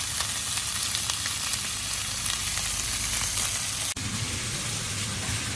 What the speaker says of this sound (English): Sear the meat until brown on both sides.